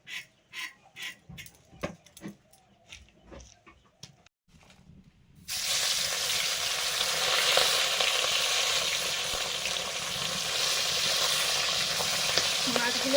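Fish such as tangra, parshe and bele frying in a kadai: a few clinks and scrapes of a utensil give way to a continuous loud, crackling sizzle of hot oil that carries on steadily.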